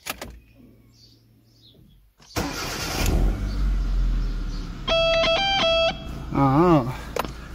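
A Hyundai Accent engine cranks and catches after a quiet moment, then settles into a steady idle close by, with electronic chimes and beeping tones sounding over the running engine.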